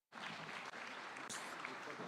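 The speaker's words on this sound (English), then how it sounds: "A round of applause again, ladies and gentlemen." Steady applause from an audience at a launch event during PBO Week 2026 at KICC in Nairobi, continuous clapping heard faint and from a distance with no talk over it.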